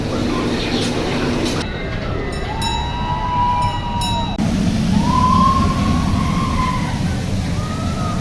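Raptor, a wing roller coaster at Gardaland in Italy, roars steadily from the front row, with a constant rushing rumble of wheels and wind and a few rising and falling whines over it.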